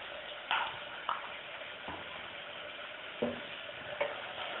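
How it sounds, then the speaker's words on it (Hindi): Masala of turmeric powder, garam masala and salt frying in a pan for aloo tikki chaat, a soft continuous sizzle broken by a few scraping stirs of a spoon, close and fairly quiet. "अब इसे भी हम अच्छे से भून लेंगे,"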